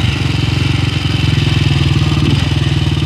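A 1968 BSA Starfire 250 motorcycle converted to a trike, engine running loud and close with a steady, throbbing single-cylinder beat.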